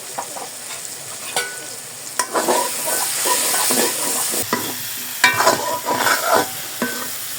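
Spices including turmeric and chilli powder are stir-fried in a pan for a ridge gourd and moong dal curry: continuous loud sizzling with irregular spatula scrapes and clanks, close up, no talking.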